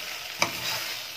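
Freekeh stirred and sautéed in ghee in a pan, a brief utensil scrape over a steady, soft sizzle of frying grains, with no talking.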